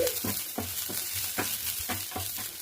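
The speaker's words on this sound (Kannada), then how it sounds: "ಸ್ವಲ್ಪ ಆಯಿಲ್ ಹಾಕ್ಕೊಳ್ಬೇಕಷ್ಟೇ, ಜಾಸ್ತಿ ಆಯಿಲ್ ಹಾಕ್ಕೊಳ್ಳೋಂಗಿಲ್ಲ. ಕ್ಯಾಪ್ಸಿಕಮ್ ಹಾಕ್ಕೊಳ್ತಾ ಇದ್ದೀನಿ. 2 ನಿಮಿಷ ಫ್ರೈ ಆಗಬೇಕು." Capsicum frying in a little oil gives a soft, steady sizzle, with a few light stirring taps against the pan at close range.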